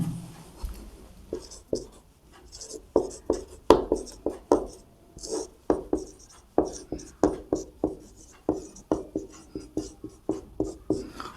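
Rapid scratchy strokes of writing on a board while a class 12 linear programming maths problem is worked out, quick irregular taps and scrapes close by, with faint talking under it.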